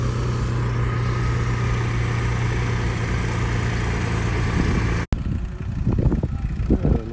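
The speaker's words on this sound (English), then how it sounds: "A nice little tractor going there." An International 250 or 275 pulling tractor runs at a plow match, a loud steady engine drone that cuts off abruptly, followed by quieter outdoor rumble and nearby voices.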